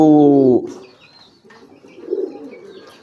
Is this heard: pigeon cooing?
yes